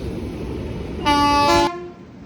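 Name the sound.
Indore Jabalpur Express train about to depart the platform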